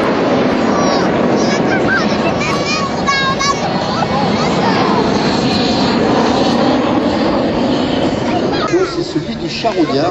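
Patrouille de France Alpha Jet formation flying over St Brevin les Pins, a loud continuous roar of jet engines with wind and outdoor noise, steady then easing slightly at the end, with a commentator talking over it throughout.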